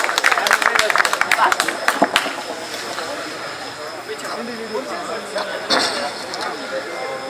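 Audience applause at an Urdu poetry mushaira in Layyah: a burst of dense clapping up front that thins out, then gives way to a man's speech over background crowd murmur.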